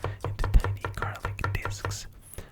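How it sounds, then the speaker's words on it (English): A knife slices garlic into tiny discs on a board, giving a quick run of close, crisp taps in an uneven rhythm with a soft whispered voice in between. "I am now slicing the garlic into tiny discs"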